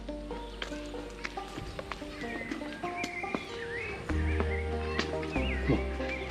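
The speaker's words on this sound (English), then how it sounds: "So that right there is a horse." A horse on a mountain trail in Mexico gives a neigh amid light hoof clip-clops, with scattered bird chirps and soft background noise; the sounds are moderately close and fairly quiet.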